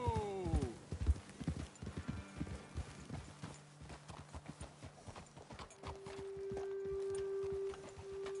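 Horses in the video game Red Dead Redemption 2 clip-clop at a walk, opening with a whinny, then uneven hoofbeats fading under a steady humming tone.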